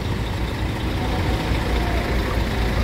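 Buses rumble and idle at a crowded bus terminal on the night of the Christmas 2023 homecoming rush, a steady, heavy engine drone with traffic noise and no clear speech.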